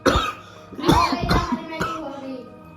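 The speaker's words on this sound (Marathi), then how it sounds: "खुडू खुडू खोकला" Several close, sharp coughs come in quick separate bursts, loud and harsh, with a short pause between them in an indoor home setting.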